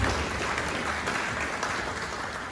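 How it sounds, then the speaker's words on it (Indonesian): An audience at a traditional Setu Pon ceremony at Pura Mangkunegaran applauds a cultural community group, a thick, even round of clapping running steadily from start to finish with no voices over it. "boleh minta tepuk tangan buat komunitas Santoyo"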